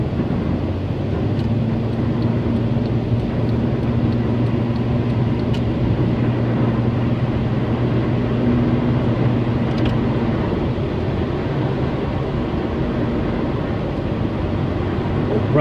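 A car drives along steadily, its engine and road noise forming a loud, continuous low drone with a faint whine, no voices over it.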